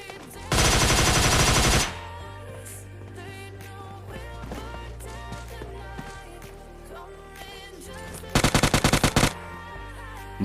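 Automatic gunfire in the mobile shooter PUBG Mobile Lite rattles in two loud, rapid bursts, one long near the start and a shorter, choppier one near the end, over quieter in-game background sound.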